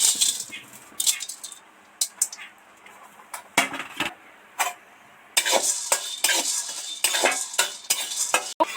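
Metal utensils clink and scrape against a pan in irregular bursts, with soft crackling from cloves and peppercorns frying in between.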